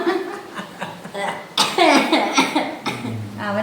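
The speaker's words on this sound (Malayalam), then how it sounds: "അവന് ചുമയാ." A man coughs in a few harsh bursts close by, mixed with chuckling and talk from others in the room.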